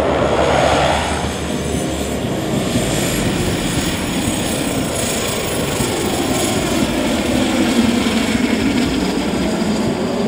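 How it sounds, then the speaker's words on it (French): A light propeller airplane lands on the dirt airstrip of Simo Kimbangu aerodrome, its engine a loud, continuous rumbling drone with broad rushing noise throughout, close and steady with no speech. "Il atterrit sur la piste en terre battue de l'aérodrome Simo Kimbangu"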